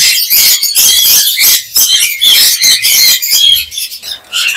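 A pair of lovebirds at a bird market in Mirpur chirps continuously, loud and close, with rapid, dense high tweets and short squawks filling the whole stretch.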